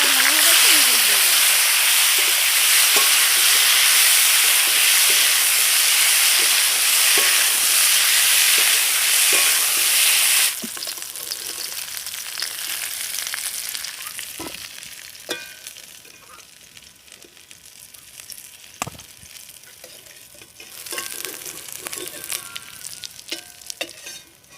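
Live mrigal fish sizzles loudly and steadily in a hot kadai for about ten seconds, then the frying drops to a quieter crackle with occasional sharp clinks of a utensil.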